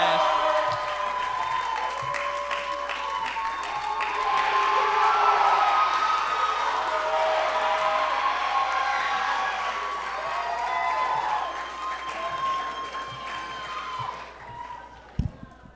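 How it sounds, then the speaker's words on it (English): A high school talent show audience at Strongsville High School's 2019 Teen Idol applauds and cheers in a sustained, dense roar of clapping and whoops that swells, then tapers off near the end. "Give a round of applause for Sebastian."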